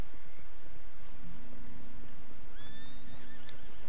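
A horse in the Western game Red Dead Redemption gives a clear whinny near the end over a constant wash of in-game ambience, with a faint low tone running beneath.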